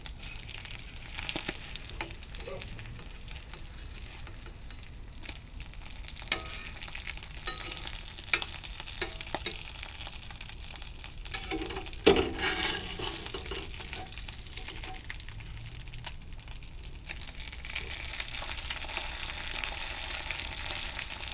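Salmon and tuna patties frying in a cast iron pan in a greenhouse, a steady close sizzle with occasional pops and faint scraping, with no talking.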